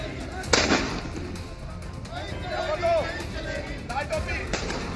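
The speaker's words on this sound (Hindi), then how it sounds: "पुलिस ताबड़तोड़ फायरिंग कर रही थी" A couple of sharp gunshot bangs from police firing crack out amid a murmuring crowd in Madhya Pradesh, with people chattering throughout.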